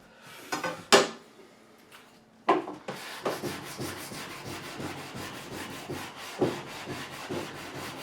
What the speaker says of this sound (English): just keep sanding until you get there